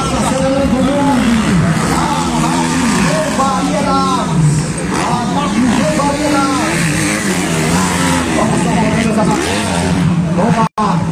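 Motocross motorcycle at an MX3-category race in Boqueirão accelerating past, its engine whine rising and falling loudly under continuous excited commentary and crowd noise.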